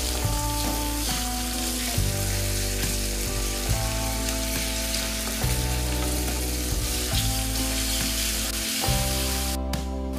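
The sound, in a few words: ginger garlic paste frying with green chillies in pan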